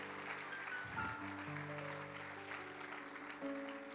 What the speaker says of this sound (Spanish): Dale ese aplauso bien dado al Señor